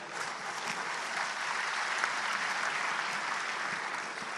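Sustained applause from an audience filling a Bhopal auditorium at a police ceremony, a dense even patter of many clapping hands held at steady, moderate loudness.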